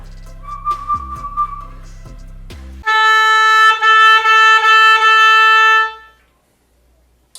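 A single sustained reed tone holds steady for about three seconds, bright and loud, after some softer low notes and a short high tone.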